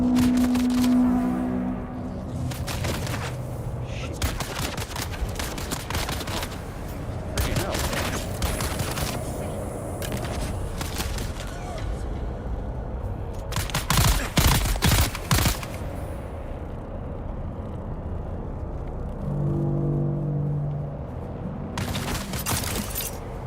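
Repeated bursts of gunfire in the video game Dune: Awakening, sharp rapid volleys spread across the scene, some near and loud, others fainter, with a voice speaking at times between them.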